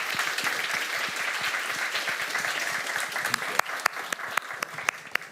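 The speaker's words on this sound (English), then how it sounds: "Let's give a round of applause for our esteemed panelists." Steady audience applause for the panelists at a security careers panel in Kyiv, a dense wash of clapping with sharper individual claps standing out near the end.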